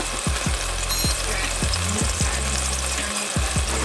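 Minced garlic, a couple of teaspoons, fries in a pan for Filipino pork adobo, a steady close sizzle broken by repeated low knocks and clatters of stirring, with no talking.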